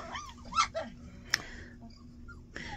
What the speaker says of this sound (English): They're learning to growl and bark and attack you even though they don't have any teeth.